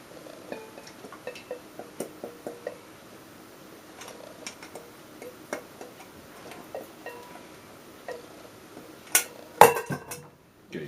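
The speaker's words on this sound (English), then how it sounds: "Use your spatula to spread it around." A spatula spreads potatoes and soup mix around a dish, giving light scattered clicks and scrapes against the dish with quiet gaps between, ending in a few louder knocks.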